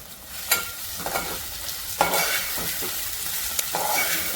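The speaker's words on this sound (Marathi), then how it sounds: "कांदा चांगला छान तळून घेणार आहे" A steady sizzle of onions and green chilies frying in a pan, with a few louder scraping stirs at intervals and no talking.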